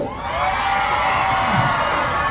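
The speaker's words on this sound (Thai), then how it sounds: "ขอเสียงเชียร์เนยเร็ว" A crowd at a Homepro store event in Rungsit cheers and shouts together in a steady, loud roar with high, excited voices.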